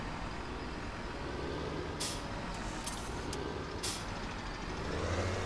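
A tractor backs up in Farming Simulator 17 while chopping and harvesting corn, its steady low engine drone joined by a few bright intermittent beeps, faint and without speech.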